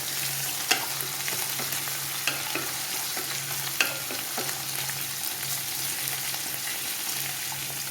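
Chopped ginger and garlic fry in oil for mango pickle, giving a steady, close sizzle with occasional sharp clicks of stirring.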